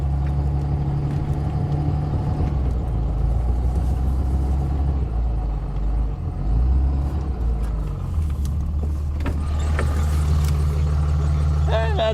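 A common-rail diesel truck drives through deep snow, its engine a loud, steady low rumble from the cab with slight shifts in tone, and a voice speaks faintly beneath it.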